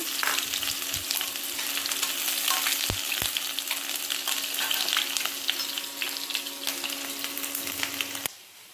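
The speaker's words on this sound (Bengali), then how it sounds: "আর এই যে তেল গরম হয়ে গেছে, আমি এখন পেঁয়াজ রসুন দিয়ে দিলাম তেলের মধ্যে।" Onion and garlic dropped into hot oil sizzle loudly and continuously up close, with a few sharp clinks of a stirring utensil against the pan before the sound cuts off abruptly.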